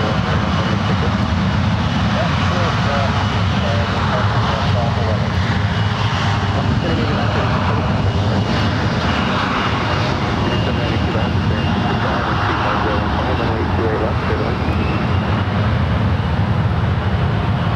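A Horizon plane taking off at San Francisco airport, a broad continuous roar of engine noise at constant loudness throughout, with faint voices underneath.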